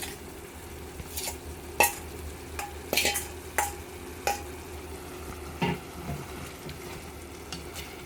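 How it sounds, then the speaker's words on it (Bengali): Boiled taro stolons are stirred into sizzling masala in a pan, with a soft frying hiss beneath repeated scraping strokes of a spatula against the pan at uneven intervals. "এবার আমি সিদ্ধ করে রাখা লতিগুলো কষানোতে দিয়ে দিচ্ছি।"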